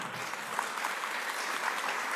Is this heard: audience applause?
yes